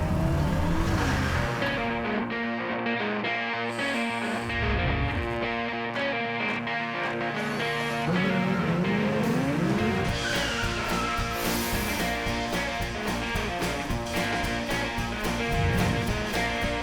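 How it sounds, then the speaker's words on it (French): A 1966 Chevrolet Corvair engine revs loudly and continuously, the pitch rising and falling as the throttle is worked, with a rough mechanical growl close by. "On se tente pas d'écouter la symphonie du moteur."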